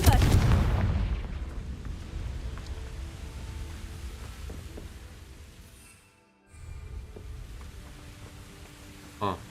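A Confringo blasting spell bursts in Hogwarts Legacy, a loud low boom at the start that rumbles and fades over several seconds, followed by a short quiet gap and a small pop near the end.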